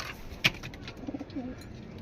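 Racing pigeons give a brief, fairly close coo against quiet background noise, followed by a few softer, low murmuring sounds.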